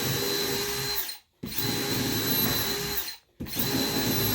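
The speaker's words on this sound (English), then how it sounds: "I was going to demo this real quick, just a regular drill setting" A Ridgid sub-compact hammer drill spins freely in regular drill mode, a loud steady whine that cuts out twice briefly before restarting at full speed, with no speech.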